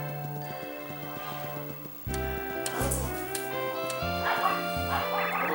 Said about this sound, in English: my dog's already going crazy again